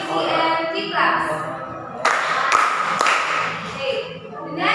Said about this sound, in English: let's give CM 3 claps